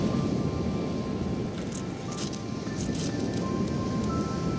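Steady wind buffets outdoors, a continuous rushing roar with rustling, no voices.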